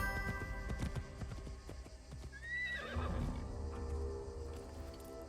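A horse in the video game Assassin's Creed Shadows lets out a loud rising whinny over steady clip-clopping hooves, close and continuous across several seconds.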